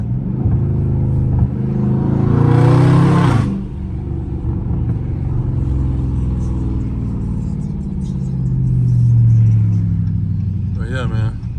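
A loud Dodge Charger Scat Pack drives on a street, its engine rumbling steadily up close and swelling into two stronger surges as it accelerates.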